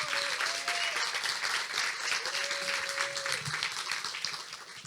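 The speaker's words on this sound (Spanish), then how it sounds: "este aplauso es nuestro para ustedes" Steady audience applause fills the room, even and moderately loud, with a faint whistle-like tone and some murmuring running under the clapping.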